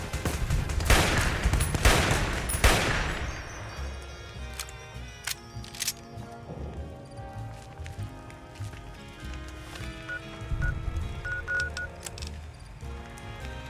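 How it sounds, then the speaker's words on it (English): Sustained gunfire from Fallout: New Vegas, heavy and loud at the start with dense bursts over the first few seconds, then continuing as scattered shots under a layer of game music and ambience. "Okay, who's shooting?"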